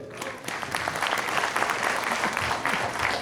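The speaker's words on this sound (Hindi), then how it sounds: "तो दोस्तों तालियां हो जाए।" Audience applause during a Hindi talk on diet-based healing, dense and steady clapping from a room of listeners lasting a few seconds, fairly close and loud.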